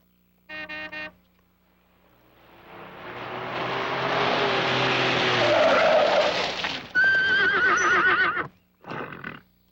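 A horse neighs loudly in a 1961 film scene set among riding horses, a long rising and falling whinny lasting several seconds, bracketed by shorter snorts and calls before and after.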